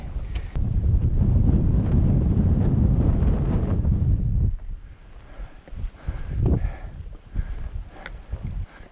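Strong wind buffets the microphone high on Ben Nevis, a loud continuous roar for about four seconds that drops to lighter gusting and rustle.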